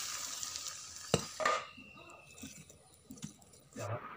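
Dal fried in oil alongside potato and jackfruit seeds is stirred in a pan, with a low sizzle, soft scraping, a couple of sharp utensil knocks against the pan, and a voice speaking nearby.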